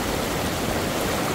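Fast-flowing stream water at a hidden spot in Uttarakhand near Dehradun, a steady, dense broadband rush heard close and continuous with no pauses or voices.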